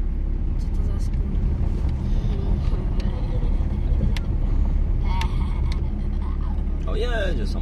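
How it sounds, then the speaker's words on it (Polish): A car rolls past on a road near the King's Springs in Radom, Poland, its steady low rumble tangled with gusty wind buffeting the microphone, while people talk close by. "O, jedzie samochód, patrz."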